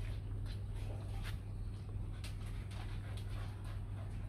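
A young dog pants and whimpers softly in a steady run of breathy, rhythmic sounds over constant background noise, with no talking.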